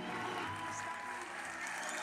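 A dense wash of applause and cheering from a big crowd in a stadium-style venue aboard a cruise ship, continuous and reverberant, with voices mixed through the roar.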